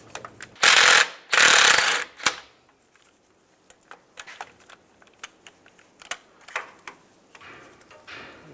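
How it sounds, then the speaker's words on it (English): Ratchet wrench turning a 15mm socket to remove a bolt on a 2007-2013 Chevy Silverado, two long loud bursts of rapid clicking followed by scattered short ratchet ticks and light clatter. "Using a 15mm socket, take that bolt out"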